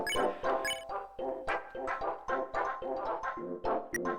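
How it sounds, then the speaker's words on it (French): A large dog in the video game Undertale, in the snowy Snowdin area, gives a rapid series of close, clear, rhythmic barks that repeat throughout, with music underneath. "C'est un gros chien."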